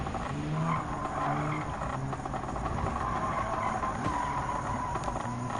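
Gr.B rally cars, a Honda NSX and a Ford Focus, race in the Gran Turismo 7 video game, their engines droning loudly and continuously with tyre and gravel noise throughout, and no talk.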